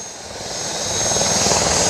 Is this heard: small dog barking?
no